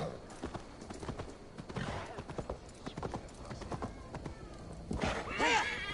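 A horse galloping in Assassin's Creed Valhalla, its hooves clip-clopping in a quick, steady rhythm at moderate volume, with a short whinny rising near the end.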